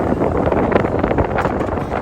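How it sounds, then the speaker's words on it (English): Strong wind roars and buffets the microphone, a constant rough rush of noise with no voices. "It's been extremely windy today."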